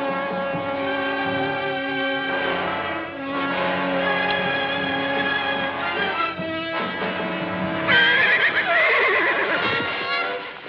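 A horse in a French Western film neighs repeatedly, its loud whinnies rising and falling close by, ending in a sharper, higher whinny with no talk.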